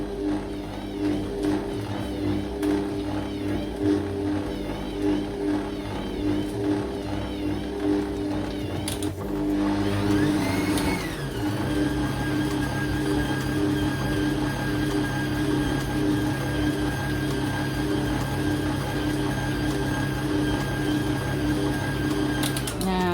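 An electric mixer runs at high speed through cheese sago cookie dough, giving a steady, loud mechanical whir that picks up in pitch partway through, with background noise underneath.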